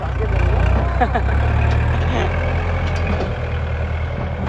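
A land-filling service truck in northeast Thailand approaches with a loud, steady engine rumble close by, while voices talk in the background.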